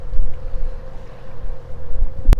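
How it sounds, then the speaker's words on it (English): Wind gusts across the microphone aboard a sailboat on Whangārei Harbour, a steady low rumble of wind and water noise with a sharp knock near the end. "Oh, wind's starting to come up."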